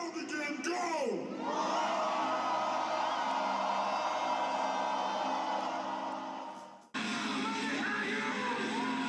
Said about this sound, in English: The next thing that Tony Robbins teaches about is something called Primal Screams.